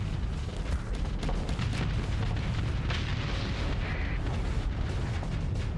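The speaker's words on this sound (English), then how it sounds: "He's still being spammed by a bunch of torpedoes" Torpedoes explode against a ship in the space combat game Starsector, a dense, continuous barrage of deep booms and crackling bursts rolling over one another without pause.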